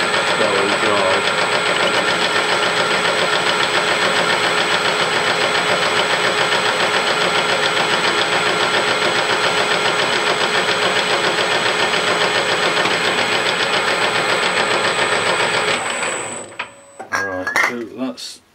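Metal lathe taking a dry 10 thou cut, a steady loud whirring hum with a faint rhythmic knock that runs unbroken for about sixteen seconds, then stops and gives way to a few clunks and handling noises.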